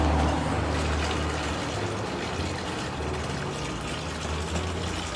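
Artesian well water pours steadily and loudly into a container at a public drinking water source, a continuous dense rushing splash with a low motor-like hum underneath.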